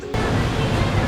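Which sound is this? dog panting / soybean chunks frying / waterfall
waterfall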